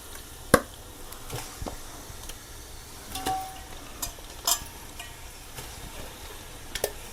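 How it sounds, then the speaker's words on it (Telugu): Fish pieces go into hot oil and masala for a Telugu fish curry (chapala pulusu). A low, steady frying sizzle runs throughout, with scattered sharp clicks and pops, and no talk. "ఇప్పుడు అందులో చక్కగా ఈ చేప ముక్కలన్నీ వేసేసుకోండి."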